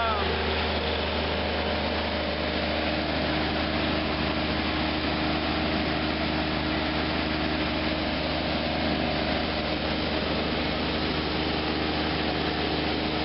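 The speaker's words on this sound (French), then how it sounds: "Voilà le groupe de soudure." A welding generator engine runs at a constant steady drone with a low hum, continuous and fairly loud throughout, while a voice speaks faintly under it.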